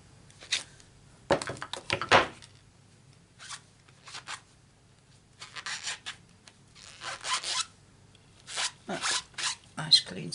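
Rubber stamps scrubbed clean on a table, heard as short bursts of close rubbing and scratching separated by quiet gaps.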